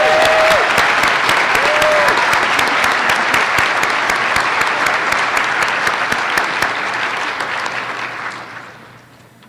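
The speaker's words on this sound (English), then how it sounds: "let's honor Judy Murphy with a big round of applause" A staff audience at an all-staff gathering breaks into a big round of applause to honor a retiring colleague, dense steady clapping from many hands that holds loud for several seconds, then fades out near the end.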